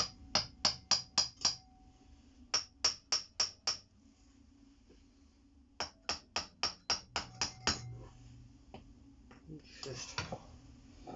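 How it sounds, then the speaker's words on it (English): A hammer taps a part on a Honda CB125 RS motorcycle in sharp, close, metallic strikes that come in rhythmic bursts of five or six, followed by some quieter shuffling. "Might give it a little tap with the hammer"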